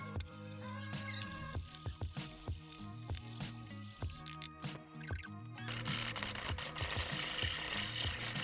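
Sandpaper taped to a wooden block is rubbed over the edges of a wooden monitor stand, giving close, faint scraping strokes in an irregular rhythm that turn into a louder, continuous rasp near the end, with no talk.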